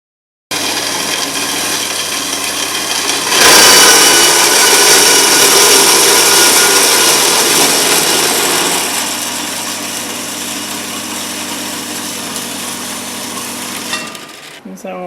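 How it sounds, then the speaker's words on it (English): An orbital sander buzzes loudly against metal pieces being cleaned before rust treatment. The harsh, continuous grind lasts over ten seconds and eases slightly toward the end before stopping. "I'm cleaning them with the orbital sander first and then putting on the rust converter"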